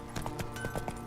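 Hooves of the horse Roach clip-clop in a video game, a quick run of about seven light, evenly spaced hoof strikes, close and clear, with no talk over them.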